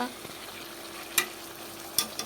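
Mutton being stirred and fried with spices in a pan, a steady soft sizzle with a few sharp scraping clacks of the spoon, close and alone without talk.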